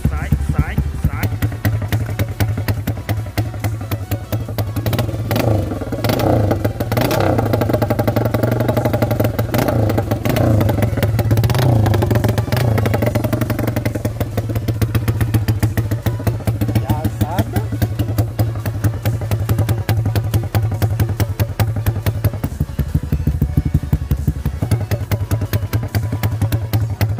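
Honda Titan 150 motorcycle running with the muffler removed, its bare exhaust pipe giving a heavy, loud note. It idles and revs steadily up close for about half a minute, with people talking over the engine.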